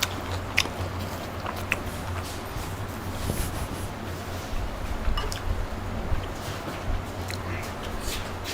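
Someone eats masala paneer with rice close to the microphone: soft wet chewing with scattered small crisp clicks and smacks over a steady low background, with no clear talking.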